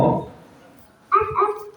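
A voice imitates a dog barking, a quick pair of high woof-like yelps following a brief spoken word in a quiet room.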